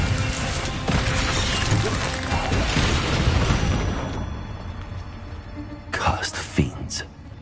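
Incendio and Expelliarmus spells cast in the video game Hogwarts Legacy, with loud roaring bursts and crashes of magic close up. A voice calls out over the effects, followed by sharper, separate hits near the end.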